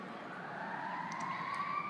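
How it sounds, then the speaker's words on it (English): An ambulance siren wails steadily with a slowly rising pitch as it approaches outdoors, moderately loud and unbroken by talk. "Not the fire, but the ambulance coming."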